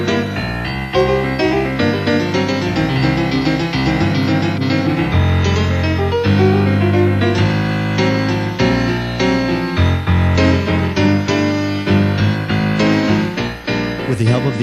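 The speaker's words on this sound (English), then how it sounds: "the piano, for example, which, when it comes from the factory, sounds like this." A Kurzweil 250 synthesizer's factory piano sound plays a full, continuous passage of chords and melody, bright and steady with no voices.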